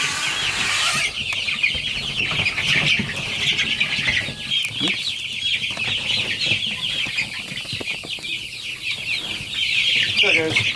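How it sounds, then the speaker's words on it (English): A crowd of chickens clucking and cheeping continuously nearby, a busy overlapping chatter of many birds. "Like a few chickens."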